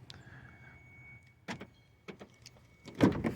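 Door locks on a 2014 Ford Focus clicking and thunking as a key fob is tried, a few scattered mechanical clunks building to a louder actuator burst at the end, close by with no talking.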